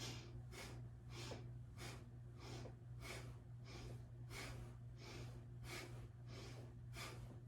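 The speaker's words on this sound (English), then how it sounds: "This is actually called breath of fire, so it's just fast breath." Rapid rhythmic yogic breath of fire, roughly a dozen sharp nasal exhales pumped in a steady fast pulse, close and clear over a low constant hum.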